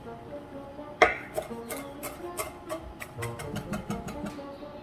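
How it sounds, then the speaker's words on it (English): Fresh summer savory and basil chopped with a knife on a board, a sharp first cut followed by a run of quick, light, uneven taps, close up. "right here I'm chopping some summer savory and a little bit of fresh basil"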